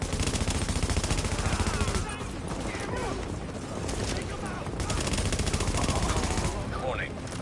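Rapid automatic gunfire from the video game The Division crackles in dense bursts, loudest in the opening two seconds and then continuing more sporadically, with someone talking over the shooting.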